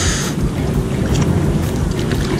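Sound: wind blowing over the lake while fishing

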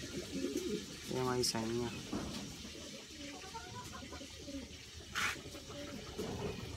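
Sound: Taiwan Bird racing pigeon cooing

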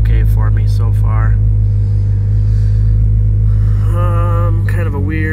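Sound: Mitsubishi 4G63 engine idling after cold start, AEM Series 2

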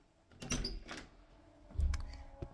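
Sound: door opening in PK XD video game

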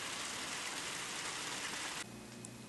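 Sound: rain falling outside

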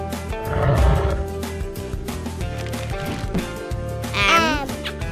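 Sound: lion roaring

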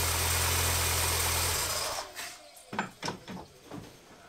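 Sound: MINI One R50 engine idling after oil service

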